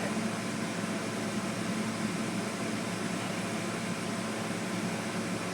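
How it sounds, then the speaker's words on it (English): A lab aspirator vacuum runs in a fume hood, giving a steady, even hiss and hum that stays constant throughout with no talking. "you can hear the aspirator starting to work in the hood"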